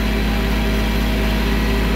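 A tractor engine idles steadily close by on a driveway job, a continuous low rumbling drone with no talk over it.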